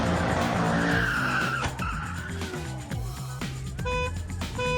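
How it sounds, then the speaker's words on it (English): A Ford Mustang skids out of control and crashes, its tires squealing loudly for several seconds with engine roar and scraping impacts close by. "Here's a Mustang doing what Mustangs do best,"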